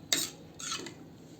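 Potato pieces tipped into cooking gravy, heard as two short clattering scrapes of metal against a pot, close and fairly quiet, with nothing else around them.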